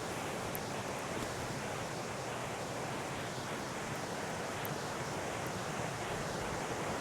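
River water flowing steadily through a low-elevation wooded area, a continuous broadband rush that stays even throughout with no voices.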